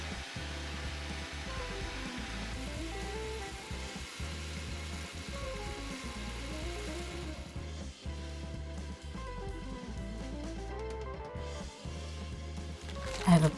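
A blender whirs steadily through vegan pesto made with fresh basil, vegan Parmesan and white wine vinegar, a continuous motor drone holding close and loud for the whole stretch with only brief dips in pitch.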